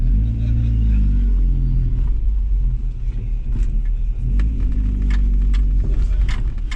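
A Ford Escort Cosworth, back on the road after sitting abandoned for ten years, drones steadily from inside the cabin as it drives, with a loud, continuous low engine rumble and faint road noise.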